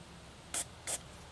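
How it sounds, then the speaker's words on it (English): Two short hissing bursts of Remington Action Cleaner sprayed onto a rifle bolt, each about a tenth of a second, close and fairly loud over quiet room noise. "This is a simple process of spraying it down,"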